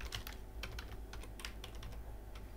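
Rapid, uneven keystrokes on a computer keyboard as C code is typed, close and clear with short bursts of clicks and no voices.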